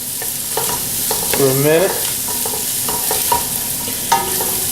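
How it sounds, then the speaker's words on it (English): One whole orange bell pepper sautés in a hot pan for a cheesy enchilada skillet dish, a continuous sizzle broken by repeated spatula scrapes and stirs, with a short spoken phrase partway through. "We're just going to saute that up"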